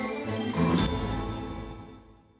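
Reverb-drenched music plays, swells briefly, then gradually thins and fades lower in volume toward the end, with no voices.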